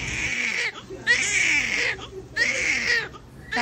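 A newborn girl cries right after a caesarean birth: three loud, wailing bursts with brief gasping pauses between them, and faint background sounds underneath.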